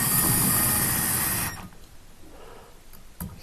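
A power drill whirs loudly and steadily for about a second and a half while driving screws during a pendant light installation, then cuts off, leaving quiet room noise with a faint click near the end.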